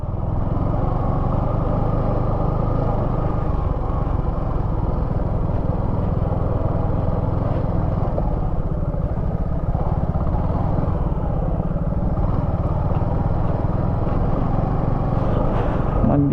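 Continuous motorcycle engine drone while riding on a road to a temple by a dam, a steady close rumble with wind noise and no pauses.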